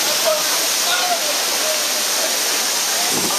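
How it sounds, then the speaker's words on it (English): Dense, steady rushing roar of Mooney Falls, a 200-foot waterfall at Havasupai in Arizona, heard close and loud with no breaks, with faint voice-like traces in the spray. "I'm about to go in one of the biggest waterfalls in the state of Arizona."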